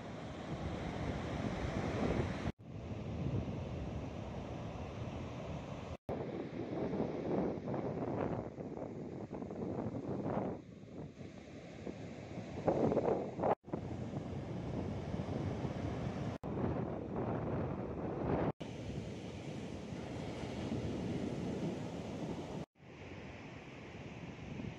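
Surf and wind at Bajul Mati beach, with Watu Bolong rock nearby on the south Malang coast; a loud, steady broadband rush of waves and gusting wind runs throughout, broken by a few short cuts, with no talk.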